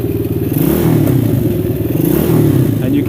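A 50cc-250cc dirt bike engine, warmed up and idling, revs under throttle with a loud, steady buzzing drone that rises and falls in pitch, close by and with no talking.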